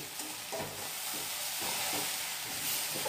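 Poha, flattened rice with a little sugar, fries in a pan over low heat with a constant soft sizzle. A spoon scrapes and stirs through it in rhythmic strokes, close by.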